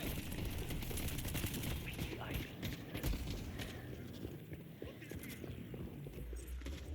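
A deployed turret firing in the hero shooter Deadlock: a steady, dense stream of rapid shots runs throughout under constant battle noise, with a voice faintly in the mix.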